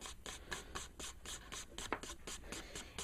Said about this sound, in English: Press it down and shake it off, rub it off.